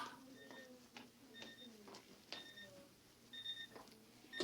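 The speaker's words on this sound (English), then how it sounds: "I hear the timer going off" A classroom timer gives short, repeated electronic beeps in an uneven pattern, faint and thin against a murmuring room with people talking underneath.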